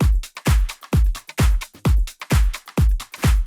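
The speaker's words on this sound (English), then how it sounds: "So drums without effect sounds like this." A dry progressive house electronic drum loop with punchy kicks and crisp hits in a steady, repeating rhythm, loud and unprocessed, no voices.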